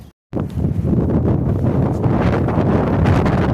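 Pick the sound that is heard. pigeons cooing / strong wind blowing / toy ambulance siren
strong wind blowing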